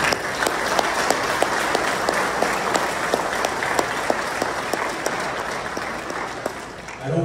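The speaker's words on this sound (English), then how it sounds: "I want you to give yourselves an applause and all the volunteers." Loud, sustained audience applause at a Cauliflower Alley Club wrestling gathering, dense crowd clapping with sharp individual claps standing out, steady throughout before easing slightly at the end.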